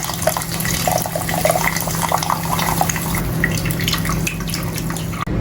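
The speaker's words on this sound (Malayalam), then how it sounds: "ഇതിലേക്ക് നേരത്തെ ഉടച്ച് വെച്ചിട്ടുള്ള തക്കാളി ഇട്ട് കൊടുക്കുകയാണ്. കൂടെ പുളിവെള്ളം കൂടെ ഒഴിച്ചു കൊടുക്കാം." Crushed tomato and tamarind water pour into a pot of South Indian rasam, a continuous close splashing and gurgling stream that runs for several seconds before cutting off abruptly.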